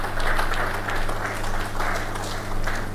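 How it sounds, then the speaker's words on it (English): An audience at an awards ceremony during a presidents' summit applauds in a dense, continuous round of clapping that swells and dips in waves. "Let's give them a round of applause again."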